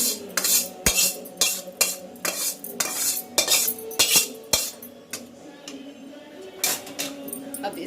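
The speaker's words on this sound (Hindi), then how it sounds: "तो इस तरफ ये मैं एक बड़े बर्तन में इसको ट्रांसफ़र कर दे रही हूँ" A wheat flour ladoo mixture is scraped and transferred into a large vessel, with repeated sharp metallic clinks and clanks of a spoon against the pots, close and fairly loud in a kitchen.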